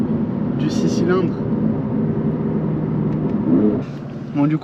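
Inline six-cylinder of a track-oriented BMW M3 CS tuned to 580 hp, droning steadily while driving, with brief rising revs and small chirps over a continuous close engine rumble.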